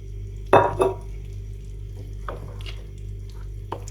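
Meat sizzles in a pan after oil is poured in for stuffed dolma with a special sauce, a steady close fry broken by a couple of louder stirring scrapes near the start and a few lighter clinks later.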